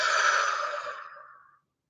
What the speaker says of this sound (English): Let's go ahead and take one more deep breath together. And out.